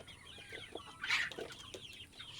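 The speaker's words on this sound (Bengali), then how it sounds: "আমাদের মুরগির খামার।" Sonali chickens on a poultry farm cluck softly in a few short, scattered calls, close by but quiet, with faint bird chirps and low farm ambience behind them.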